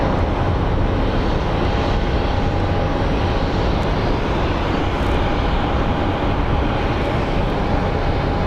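A Cirrus Vision Jet's engine roars loud and steady at Phoenix Sky Harbor airport, a continuous broadband rumble with a faint whine, no voices.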